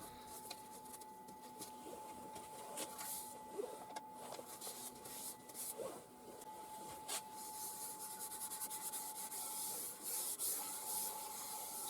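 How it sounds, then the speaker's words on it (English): Yorkshire Grit abrasive paste rubbed onto a spalted ash bowl spinning on a woodturning lathe, a continuous close scratchy rubbing over a steady motor hum with a faint high whine. "just applying the Yorkshire grit again"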